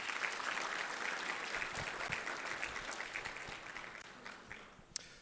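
Applause at an awards banquet, a room full of clapping that starts fairly full and gradually fades toward the end, with a sharp clink near the close.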